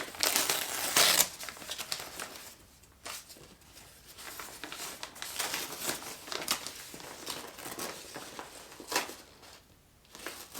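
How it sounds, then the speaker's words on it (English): Packing tape is peeled and ripped off a plant shipping package nearby, bursts of sticky tearing and crinkling that come and go in uneven stretches. "Just going to take the tape off."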